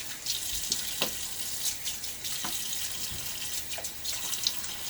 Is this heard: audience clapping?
no